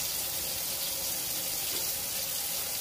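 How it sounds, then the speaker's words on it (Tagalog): Running tap water pours steadily and loudly while a kettle is rinsed before brewing coffee, a continuous close splashing rush with no voices. "Unang hakbang, hugasan natin yung lalagyan ng kape. Itong takore, hugasan natin."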